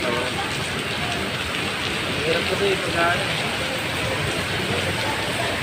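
Heavy rain pouring steadily in a dense, hissing wash near Gateway Cubao while people talk quietly beneath it.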